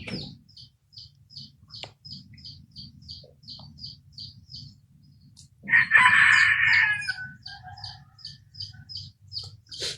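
Chickens in a coop cluck and chirp in a rapid, regular series of short calls, with a louder burst of squawking midway over a low rustling background.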